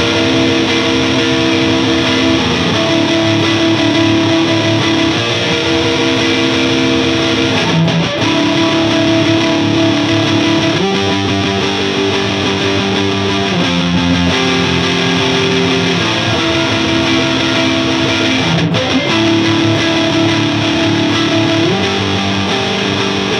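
An Orange OR15 guitar head with its preamp cranked plays loud, heavily distorted electric guitar chords, sustained and changing pitch in a continuous riff with no talking.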